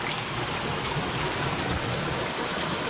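Clear water running steadily at an outdoor public clothes-washing place in Portugal, a continuous close splashing rush with no voices over it.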